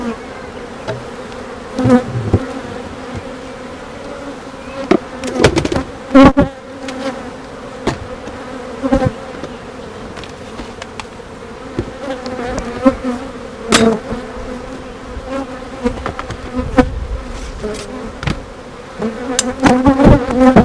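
Honey bees hum steadily around an open hive just after a queen is released, a close, continuous drone broken by occasional sharp knocks and taps from the box.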